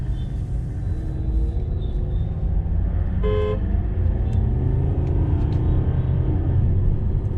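A Volvo S60 diesel car in manual mode pulls hard under full throttle, its engine rumbling steadily and loudly throughout, with a brief tonal chirp partway through and a short spoken word at the start.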